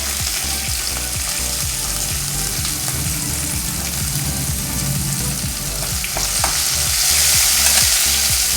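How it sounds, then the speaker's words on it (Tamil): Garlic and green chilies frying in oil in a pan for dry fish thokku, a dense continuous sizzle with repeated scraping strokes of a spoon, close up and loud, growing a little louder near the end. "அடுத்து பூண்டு போட்டுக்குவோம். பச்சை மிளகாய் போட்டுக்கலாம்."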